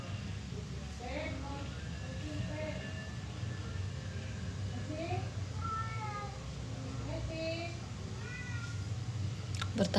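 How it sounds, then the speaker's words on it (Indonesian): A cat meows repeatedly, several drawn-out, rising and falling calls spaced a second or two apart over a low, steady background hum. "Kenapa sih kucing gue?"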